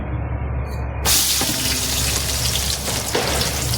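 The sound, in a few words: two onions frying in a pan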